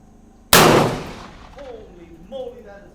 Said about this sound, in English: I want to test out this new 300 blackout that I built from scratch